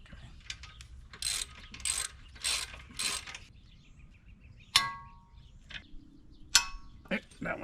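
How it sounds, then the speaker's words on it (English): Torque wrench tightening crash guard bolts on a 2023 Suzuki DR650 motorcycle, with bursts of quick ratcheting clicks followed by a couple of sharp metallic clacks as each bolt reaches torque, heard close in a quiet space. "then I'll go back through with the torque wrench and torque them down"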